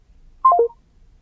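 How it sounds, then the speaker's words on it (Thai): Telephone tone heard right after a phone call is cut off: a short, clean sequence of three quick descending electronic beeps, close and fairly loud, against near silence with no talk. "โทรศัพท์มันตัดไปแล้วแม่"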